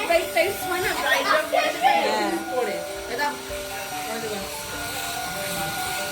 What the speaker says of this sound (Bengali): আর এখন ড্রায়ার নিয়ে হাত শোকাচ্ছে